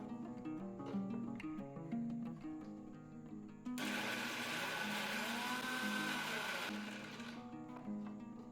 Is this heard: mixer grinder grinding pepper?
yes